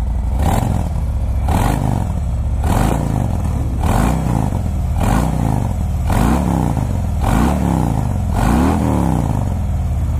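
A 2018 Harley-Davidson Fat Boy 114 motorcycle engine revs up and down about nine times in a steady rhythm, each rise and fall rumbling close and loud.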